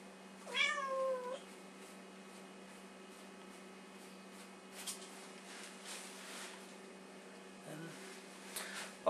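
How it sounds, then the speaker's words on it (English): A pet cat gives one short meow in the background near the start, fairly faint against a steady indoor hum, then only quiet room noise follows. "that in the background is my little kitty, Ashley, or Ashes"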